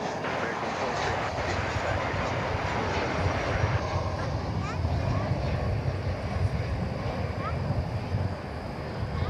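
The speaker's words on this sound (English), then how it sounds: "We got American Flight 1375 arriving now from Fort Lauderdale," An American Airlines Boeing 737-800 arriving at DFW Airport from Fort Lauderdale, heard as a broad, continuous roar of jet engines that holds loud and steady throughout, with no talking.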